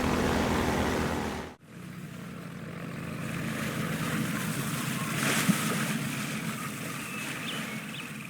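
Half-Life 2 airboat skimming across water, a steady droning propeller roar with rushing water spray, close and loud, briefly cut off after a second and then running on continuously without talk.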